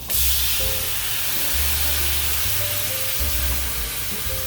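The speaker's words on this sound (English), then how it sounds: "Probably going to be a big puff of steam." Water hits a hot vintage cast iron pan and sizzles into steam, a loud sustained hiss that dies away slowly, with low hum beneath.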